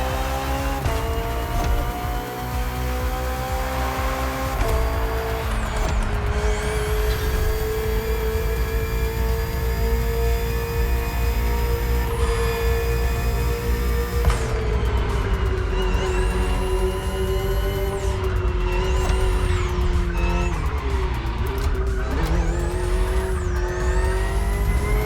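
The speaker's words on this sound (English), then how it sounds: "The BMW M Hybrid V8. What a beast." BMW M Hybrid V8 endurance race car in The Crew Motorfest: a loud, sustained engine drone throughout, with rising revs and several quick gear-change dips, heard close and with no talking.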